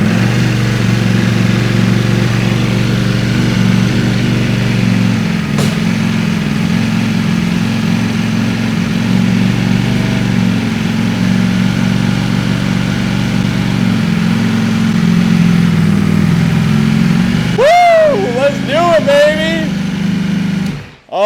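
A salvaged Ducati Panigale V4 motorcycle runs at a steady, loud idle, a close low engine drone that holds for most of the time, then shifts and cuts off near the end.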